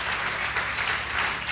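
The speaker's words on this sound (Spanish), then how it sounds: "Denle un aplauso." Applause at a Spanish-language church service after a sermon on vision, a steady dense wash of clapping from a congregation that holds evenly at moderate loudness with no voices over it.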